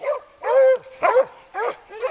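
A dog yelps and barks in repeated high, whining bursts during a hog hunt in Tennessee, close and loud, about five calls spaced through the moment.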